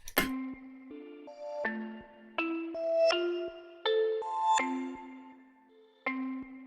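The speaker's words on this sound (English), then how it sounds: "I put a halftime on this counter melody." A halftime counter melody from a hyperpop beat in the Glaive style: a bright synth line stepping through sustained notes over about seven seconds, with sharp attacks and a steady moderate level, no voices.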